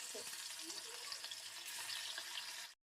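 Hilsa fish pieces rubbed with turmeric and salt fry in mustard oil in a wok, a loud, dense, continuous close sizzle and crackle that cuts off abruptly at the end.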